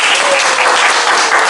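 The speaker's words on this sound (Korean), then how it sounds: "응원의 박수를 보내습니다." An audience at a church lecture feedback session applauds, a dense, loud, continuous wash of clapping from a crowd with no pauses.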